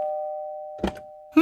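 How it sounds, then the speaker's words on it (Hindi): A doorbell chimes with a steady sustained electronic tone at a house door, followed by brief bursts of voice. "एक दिन रमन के घर के दरवाजे की घंटी बजी।"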